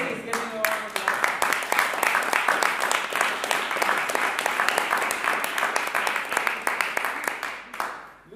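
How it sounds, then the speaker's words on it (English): Sustained audience applause at a comedy-style talk, dense clapping from a crowd holding steady for about eight seconds before fading out at the end; some voices mixed in beneath. "Please give me a round of applause."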